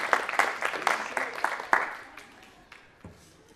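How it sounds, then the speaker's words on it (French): Conference audience applauds in a hall, a short burst of scattered hand claps that quickly thins out to a few isolated claps over about three seconds, fairly faint and distant. "on peut applaudir les gens qui ont levé la main"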